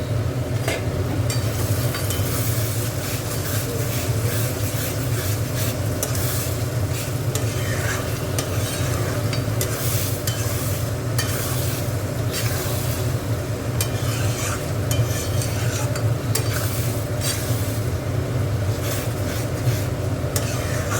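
Bitter gourd and dried shrimp dry-frying in a pan while being stirred, a constant scraping and sizzling texture with repeated spatula strokes over a low rumble, loud and close throughout.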